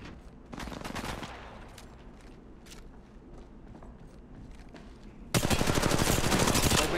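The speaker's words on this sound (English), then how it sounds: "Opening fire." Gunfire in the mobile battle royale game Apex Legends Mobile: a burst of rapid shots near the start, quieter game sounds, then a loud sustained stream of automatic fire at the end, with no talking.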